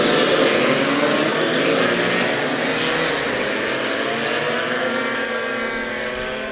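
Two-stroke stock racing scooters pull away together on a sighting lap at Anglesey, a loud, dense buzzing engine drone that fades slightly as the pack moves off, with no talk over it.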